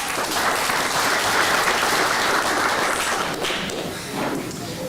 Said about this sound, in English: Round of applause for Higgo